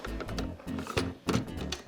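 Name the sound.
sewing machine sewing fabric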